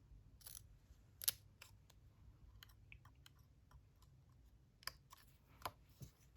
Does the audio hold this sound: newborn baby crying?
no